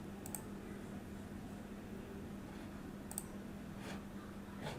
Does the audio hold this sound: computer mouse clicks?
yes